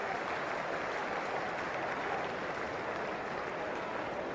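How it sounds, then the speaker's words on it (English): A cricket crowd gives a standing ovation to a batsman leaving the field, steady distant applause filling the whole stretch at an even level, with no voices standing out. "Standing ovation on the way out"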